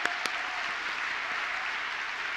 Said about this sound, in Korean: 다시 한번 우리 중고등부 학생들에게 뜨거운 박수로 함께 격려하고 축복하겠습니다